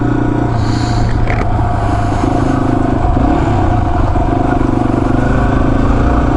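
A Yamaha XT250 motorcycle rides off-road, its engine droning loud and close with a steady throbbing note, rough clatter and wind buffeting throughout.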